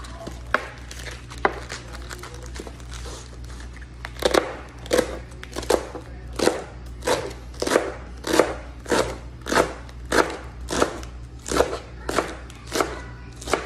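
Knife chopping rolled-up leaves into small slices on a cutting board, a rapid run of crisp, evenly spaced chops close by, sparse at first then steady and loud, over a low constant hum.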